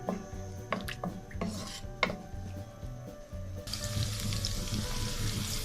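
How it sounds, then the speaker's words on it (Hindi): Capsicum fries in a pan with clatters and scrapes of a utensil against metal, and the sizzle swells into a louder, steady hiss partway through. "देखिए अब मैं शिमला मिर्च डालने लगी, इसको भी बस मामूली सा फ्राई करना है"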